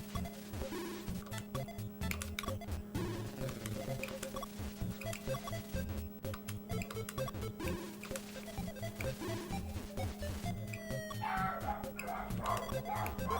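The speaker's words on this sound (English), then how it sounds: "And the dogs are going nuts." Dogs barking and yipping excitedly in the background of a retro NES game marathon stream, faint and repeated under constant game music.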